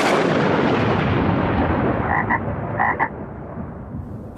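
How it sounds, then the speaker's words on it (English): A frog croaks as a comic sound effect on a radio comedy show, a few close, distinct croaks over a rumbling, noisy background with no speech. "Mary has been turned into a frog."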